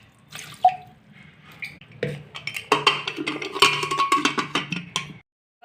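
Water poured into a pressure cooker holding pumpkin pieces, starting with a few drips and a clink, then a stream of splashing and trickling against metal, close and fairly loud.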